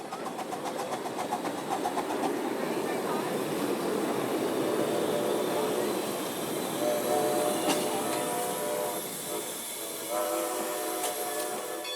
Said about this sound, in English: a scale railroad that's popular with the kids, pulled, of course, by a real scale steam locomotive